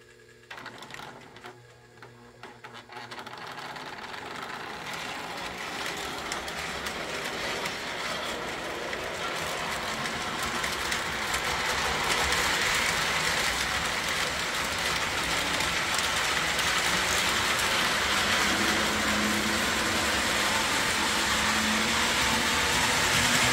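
Model train locomotives, Magnetraction and MPC-powered, running on track: a steady whirring motor hum with rattling wheel noise that builds after a quiet start and then holds loud and continuous.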